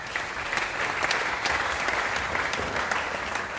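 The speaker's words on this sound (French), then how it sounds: "Nous pouvons les acclamer," A conference audience at a Kinshasa construction expo applauds panel speakers with dense, even clapping that stays steady and fairly loud throughout, no voices standing out.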